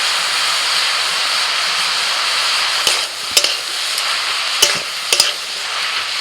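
Bottle gourd frying in ghee gives a steady, close hiss of sizzling, with a few sharp clacks from stirring in the second half.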